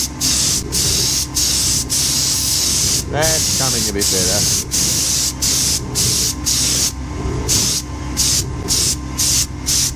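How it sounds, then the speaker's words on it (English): Repeated short hissing bursts of spray coating onto a hot gravity die-casting die for lens blanks, close and loud, pulsing over a steady mechanical hum, with someone speaking briefly partway through. "Let's see if we can put a bit of spray on that."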